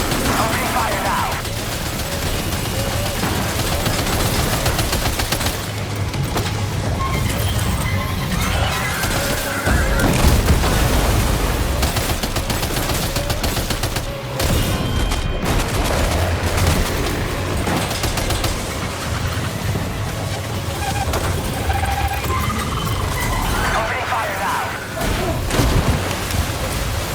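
Sustained, dense gunfire in Death Stranding 2, with rapid bursts and heavy impacts packed close together, loud and continuous across the whole stretch, with some talk mixed in.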